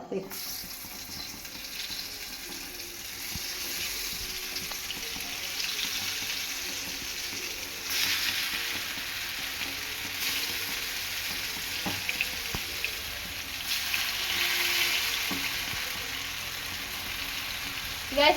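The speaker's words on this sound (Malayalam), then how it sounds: "ഒരു അഞ്ച് മിനിറ്റ് കഴിയുമ്പോൾ നമുക്ക് അത് എണ്ണയിലേക്ക് ഇടാം" Brinjal (eggplant) slices fry in hot oil with a steady broadband sizzle that continues throughout, rising in intensity in places, with faint scraping and clinks now and then.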